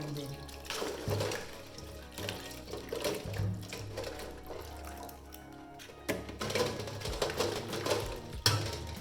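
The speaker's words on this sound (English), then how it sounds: "rinse the shells to take out the eggs from them" Tap water runs steadily into a sink while egg shells are rinsed by hand, with intermittent clatter and splashing, fairly close, and no talk over it.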